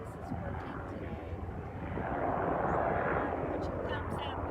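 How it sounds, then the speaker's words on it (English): Helicopters drone overhead outdoors in gusty wind, a broad rumbling roar that swells louder midway and stays constant, mixed with wind buffeting. "It's kind of hard because of the wind and the helicopters"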